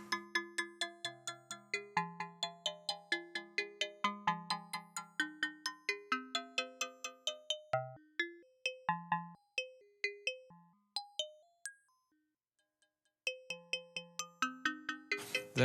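Eurorack modular synth patch mimicking a PS2 menu sound: bright bell-like plucked tones in quick rhythmic sequences, a short pause, then the pattern resumes, clean and moderately quiet.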